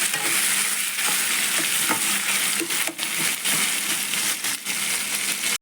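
Tomatoes sautéing in hot oil with curry leaves and turmeric for a kuzhambu, a constant loud sizzle and crackle with occasional scraping stirs against the pan.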